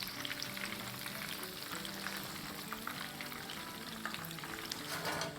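Butterfly prawns deep frying in hot oil give a steady, dense crackling sizzle with bubbling pops that carries on evenly throughout, close up and with no voices.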